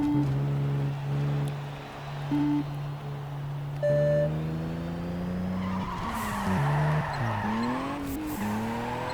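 Tires squeal and skid as a car drifts through corners in the street racing game Juiced 2, the engine note holding steady, then dipping and rising through gear changes, loud and close with brief beeps over the top.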